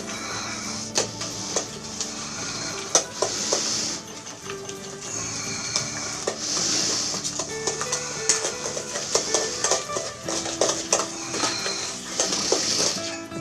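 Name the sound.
stirring and mixing chestnut shortbread dough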